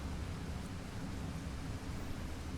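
Steady rain and storm ambience from the video game Against the Storm, a dense even wash of rainfall with low rumbling underneath, continuous and fairly faint with no voices.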